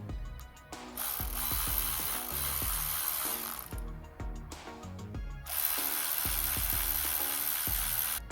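A hand ratchet tightens the ignition coil pack bolts on a 2010 Vauxhall Astra, its pawl clicking steadily and close up through long runs of strokes, with one brief pause midway.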